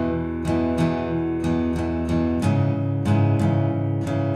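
Acoustic guitar through Seventh Heaven reverb plays a run of repeated chord attacks, the notes blurring together into a continuous wash that never fully decays between strikes.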